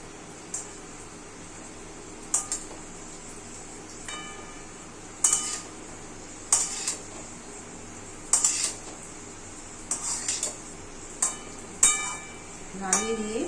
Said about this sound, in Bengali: দিয়ে একটু এইভাবে একটু নাড়িয়ে নেব